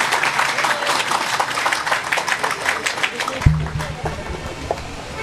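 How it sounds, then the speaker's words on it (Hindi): Audience applause at a White Cane Safety Day celebration: dense clapping from a crowd fills the room for several seconds, fading toward the end, with a brief hum and some voices underneath. "तालियां बजाओ जी भाई बेटी के लिए"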